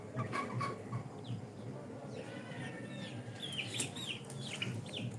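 Sonali chickens on a farm clucking and calling repeatedly, fairly close and steady over a noisy yard background, with a few sharper squawks near the end.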